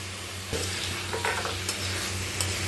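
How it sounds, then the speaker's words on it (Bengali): Boiled elephant foot yam stirred in hot spiced oil in a pan, a continuous close sizzle with a spoon scraping and clinking against the pan in a few short strokes. "এবার এর মধ্যে ওলগুলো দিয়ে দিলাম, দিয়ে একটু নেড়ে চেড়ে নিয়ে এর মধ্যে জল দিয়ে দেবো।"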